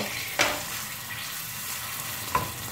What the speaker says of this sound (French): toujours avec un petit feu doux et toujours en tournant, je vais mettre 20 g de beurre fondu